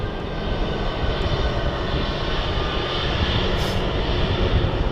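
An aircraft landing at London City Airport gives a steady, fairly loud engine roar that holds unbroken for the whole stretch, with no voices over it.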